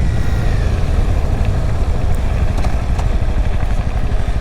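A motorcycle ridden on a first outing, its engine droning loud and steady from start to finish with a broad rumble and constant road and wind roar, with no voice.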